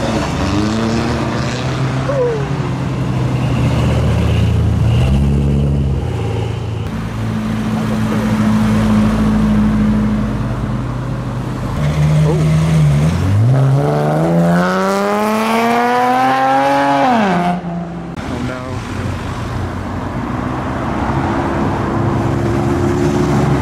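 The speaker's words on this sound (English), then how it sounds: "You hear the turbo from the Freelander." Land Rover Freelander turbo spooling as modified cars pull away from a car show, a rising whistle over loud engine drone and revving, with a sweeping pitch climb as one car accelerates past, amid crowd noise.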